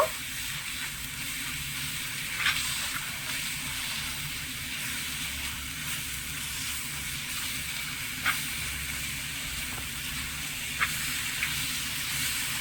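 A sticky jackfruit, jaggery and rice-flour filling cooks in a pan with a soft, continuous hiss and sizzle. Occasional spoon scrapes and taps come through as it is stirred.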